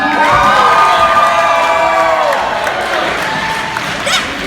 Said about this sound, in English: Yell it nice and loud. Where you at, Vinny Spano crowd? Loud, baby.